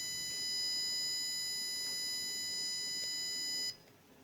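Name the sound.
Arduino security system alarm beeping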